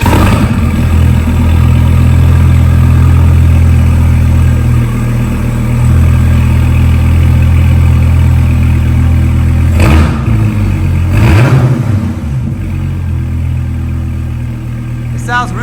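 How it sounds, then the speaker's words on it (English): A 2014 Dodge Viper GTS with its 8.4-liter V10 runs loud and close, a steady deep rumble with a couple of sharp blips of revving partway through, no talking heard. "So we're gonna do a startup of this 2014 Dodge Viper GTS and show you guys how it sounds"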